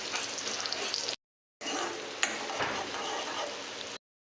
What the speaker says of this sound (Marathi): आता कांदे टाकून घेते मस्त तेलामध्ये.